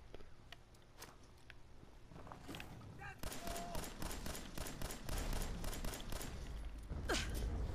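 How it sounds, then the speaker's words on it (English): Shots from a basic 10mm pistol in Fallout 4, fired by a player with a mod that triples damage: scattered single cracks at first, then a dense string of rapid, evenly spaced shots over a steady background, with no talking. "Let's get out a 10 mil. Basic 10 millimeter pistol."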